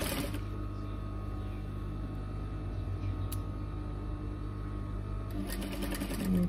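A sewing machine stitches a cuff in a steady, continuous mechanical whir with a rhythmic needle hum, fairly close and even throughout, with a brief sharper click partway through.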